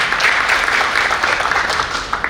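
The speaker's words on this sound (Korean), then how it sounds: "박수 부탁드리겠습니다" An audience at a political discussion session applauds a newly elected National Assembly member, giving a dense, continuous, loud round of clapping throughout with no talk over it.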